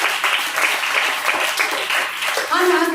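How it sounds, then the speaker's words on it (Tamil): A church congregation breaks into a short burst of hand clapping, many hands together, with a voice talking over it and then continuing alone. "கைத்தட்டி அனுப்பி நன்றி சொல்லுங்கள்."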